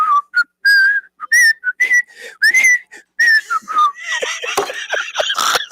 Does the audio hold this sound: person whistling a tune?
yes